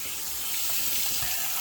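Cold water runs from a kitchen sink tap in a steady, close hiss and splash, filling a plastic bag held beneath it.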